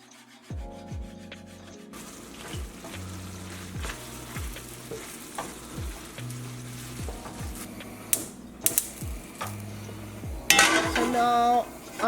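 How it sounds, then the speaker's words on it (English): Shrimp frying in oil in a saucepan are stirred with a wooden utensil, giving repeated scraping strokes and knocks against the pan over a steady sizzle, close and fairly quiet. "Stir your shrimps occasionally."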